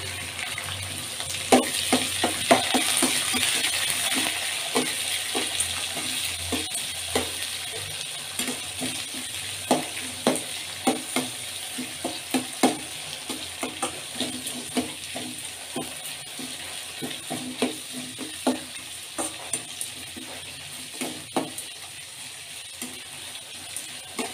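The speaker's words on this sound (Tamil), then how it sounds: "வெங்காயம் கருவேப்பிலை இது ரெண்டும் சேர்த்துட்ருக்குறேன் நான்" Chopped onion and curry leaves frying in oil in a pan while making rava upma, with a steady close sizzle broken by frequent sharp clicks and scrapes of stirring.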